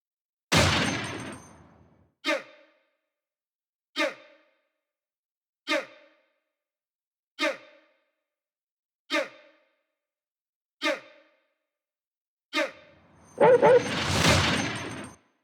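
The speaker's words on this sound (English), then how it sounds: "So the gunshot and the gunshot reverse are made from the same sample" A sharp sampled gunshot rings out in a grime production, followed by a series of evenly spaced, punchy bangs with short decays, ending in a swelling reversed version of the same gunshot sample that builds up and cuts off.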